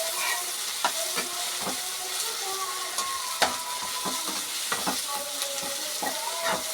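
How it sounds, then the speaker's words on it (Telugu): Food fries in a pan with a steady sizzle, scattered crackles and several sharp spatula knocks and scrapes against the pan, close up and with no speech. "ఇప్పుడు ఇదిగోండి వేగుతున్నాయి కదా ఫ్రెండ్స్"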